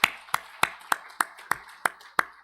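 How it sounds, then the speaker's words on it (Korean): A single pair of hands claps eight times at a steady, unhurried pace during a church service, each clap sharp and close with brief silence between. "찬양을 받으신 하나님께 영광의 박수를 올려드리겠습니다."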